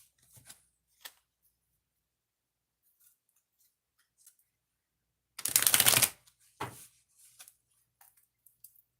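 A deck of cards is shuffled for a tarot-style reading: one loud riffling burst, a shorter second shuffle just after, then faint taps and card clicks in an otherwise quiet room.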